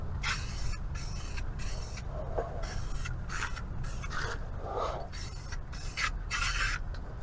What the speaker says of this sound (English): Still doesn't like to spray straight down, but it's so much better.